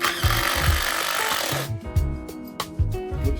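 A power drill runs loudly and continuously in a loft aquarium build, then cuts off abruptly, leaving a quieter background of music and light clatter.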